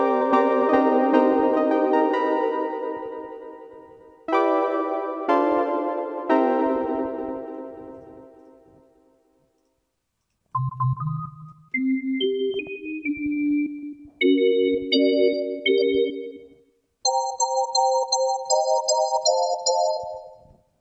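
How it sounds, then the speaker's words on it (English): Plugin emulation of an old analog synth playing in Mixcraft 8, clean sustained chords that ring out and decay, then short staccato notes and phrases stepping upward in pitch, all alone with no voices. "I think this is like an emulation of"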